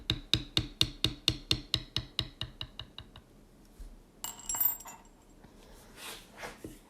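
A small bevel leather-stamping tool struck repeatedly on leather while tooling a bucking horse pattern: about fourteen evenly spaced, close, sharp taps that slowly fade in loudness, followed by soft rustling and handling noise.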